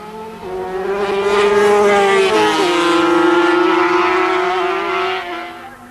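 Two-stroke 250cc racing motorcycles scream past at Oulton Park in 1984, a loud, sustained high-revving engine whine that shifts pitch with a gear change as they go by.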